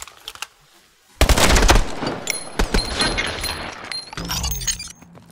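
Rapid automatic gunfire in a futuristic military shooter game takes down hostiles during a rescue raid, a loud close burst of shots followed by shattering glass and scattered debris clatter, with no voices.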